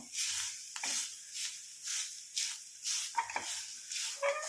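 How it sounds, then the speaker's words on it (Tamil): Ingredients for a homemade hair dye fry in a pan: a faint sizzle with rhythmic scraping strokes as the mixture is stirred, close and without talk. "இப்போ இது ரெண்டையும் நல்லா ஃப்ரை பண்ணிக்கலாம்"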